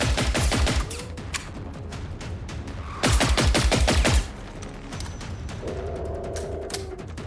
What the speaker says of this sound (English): Another hunter is shooting at me?